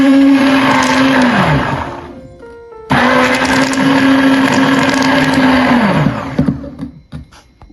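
A kitchen blender whirs loudly while blending a creamy mango mousse mixture, running in two bursts with a short pause between them. The motor pitch drops as each run winds down, ending in faint clinks.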